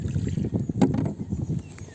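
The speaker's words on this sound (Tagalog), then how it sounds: "Malakas ang hangin mga kaibigan." Strong wind buffets a small fishing boat at sea, a rough, gusty rumble of wind noise with splashing water and a brief knock near the middle, fairly close.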